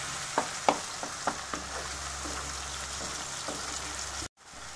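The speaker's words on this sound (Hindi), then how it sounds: "थोड़ा सा टमाटर को मैं पका लेती हूँ थोड़ा सा" Tomatoes cook in a pan for a matar palak sabzi, giving a steady, close sizzle with a few sharp stirring clicks and taps, ending in a sudden cut to near silence.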